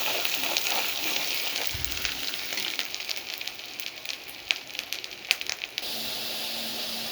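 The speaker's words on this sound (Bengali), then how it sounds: "ভালোভাবে মশলা কষিয়ে নেব।" Turmeric and salt frying with spices in a hot pan, a steady sizzle and hiss running throughout with occasional crackles, close and fairly loud, with no talking.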